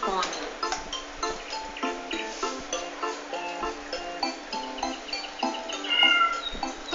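A cat meows in a house, a string of drawn-out, wavering meows repeating over several seconds, mixed in with people talking nearby.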